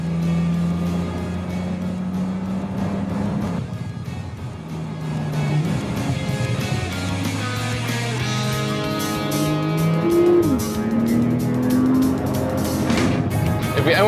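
A 560-horsepower Porsche 911 Turbo S engine drones steadily from inside the car while driving, its pitch rising and falling as it accelerates, with some speech mixed in.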